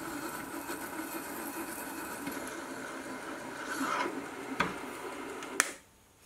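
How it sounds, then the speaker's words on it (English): A reamer turns in a hole on a milling machine, a steady whirring hum broken by a few sharp clicks before the spindle stops and the sound cuts to near silence. "Now this isn't necessary, but I'll ream the final hole to size."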